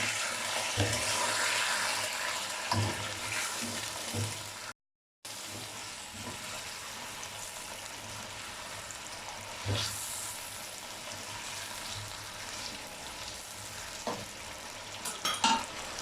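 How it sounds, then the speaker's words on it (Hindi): Chicken frying with salt in a karahi for Shinwari karahi sizzles continuously, broken by repeated stirring scrapes and clatters, with a brief cut of silence partway and no talking. "अब इसे 5 से 7 मिनट के लिए फ्राई करेंगे।"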